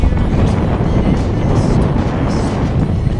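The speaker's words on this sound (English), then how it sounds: "There's probably about 20 to 25 knots of wind." Strong wind of about 20 to 25 knots at sea aboard a fully reefed sailboat on passage from Havana to Miami, heard as a loud, continuous roaring rush buffeting the microphone.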